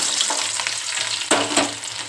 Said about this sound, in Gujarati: આપણે નાખી દઈએ લસણની કળી